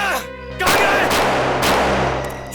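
Gunfire from a man shooting from a bus at people fleeing a bus accident in a crime drama scene: loud, sharp bursts ring out over a musical backdrop, with a second burst about a second after the first.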